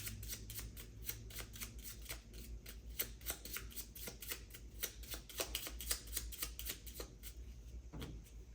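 Red Takenoko board game cards riffle and snap in quick repeated bursts, close and crisp, with a continuous fluttering rhythm and no talking.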